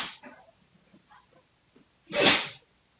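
A pet dog lets out a single sharp, loud sneeze nearby in a quiet painting studio, after a few soft faint sounds.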